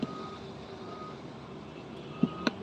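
A truck on the Sitinjau Lauik mountain road gives off a steady, distant engine drone, with a couple of short reversing beeps near the end; no voices are heard.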